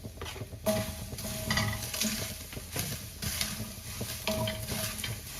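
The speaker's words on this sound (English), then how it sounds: "Okay, so let's keep stir frying." Mushrooms and green onion for tofu Manchurian sizzle and hiss in a hot pan while a utensil stirs and scrapes them in steady, repeated strokes, close by, with no talking.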